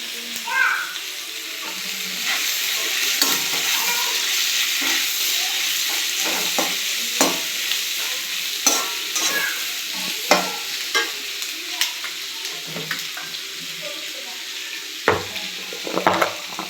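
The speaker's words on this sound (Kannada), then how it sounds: "ನಂತರ ನಾವು ಹಚ್ಚಿಕೊಂಡಿದ್ದ ಈರುಳ್ಳಿಯನ್ನು ಹಾಕಿದ್ದೀವಿ" Chopped onions sizzle in a hot pan for a spiced onion dish, a steady frying hiss broken by repeated sharp scrapes and taps of a spatula stirring, close up and with no talk.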